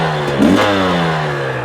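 A Husqvarna TX300i motorcycle engine runs on a test ride with a steady mid-pitched drone and one brief blip of revving partway through, close and fairly loud, with no talking.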